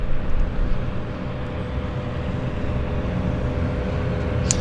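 Airplane at Vancouver YVR airport, a steady, loud broadband engine roar and rumble that holds constant throughout, heard alone without talking.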